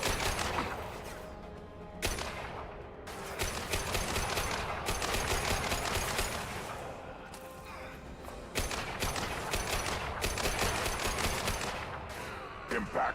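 Gunfire in the sci-fi shooter Mass Effect 2: loud, rapid bursts of automatic weapons rattle almost nonstop, broken by short pauses and a few heavier impacts, with some chatter mixed in.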